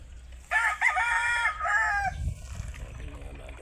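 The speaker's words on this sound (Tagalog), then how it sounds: "ating mga alagang manok." A rooster crows loudly and close by, its call lasting over a second, followed by softer clucking and rustling from chickens nearby.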